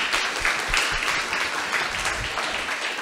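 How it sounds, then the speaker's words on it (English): An audience at a psychedelic medicine event gives a sustained round of applause, dense and steady clapping throughout with no voices over it. "Actually, let's just do a big round of applause for Mel."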